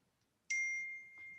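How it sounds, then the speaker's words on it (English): Phone notification chime for an incoming verification text message, a single bright ding that rings out and decays over about a second in a quiet room. "Bing, you heard it on my phone."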